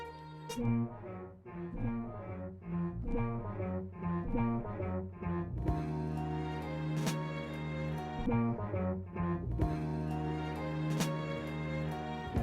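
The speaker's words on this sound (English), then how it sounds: "Now it's sort of like a little echo." Synthesized pitched notes in Drambo retriggered by a delayed gate signal, giving a repeating echo-like pattern of rhythmic tones that spreads out into a denser, sustained texture, played alone without talk.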